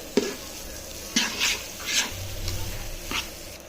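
Rice being stirred into meat in a cooking pot, giving a few separate soft scraping strokes over a faint sizzle, close and fairly quiet.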